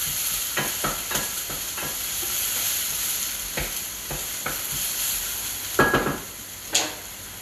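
Onions frying in a pan give a steady sizzle, broken by repeated scraping stirs and a couple of louder knocks near the end; no one speaks.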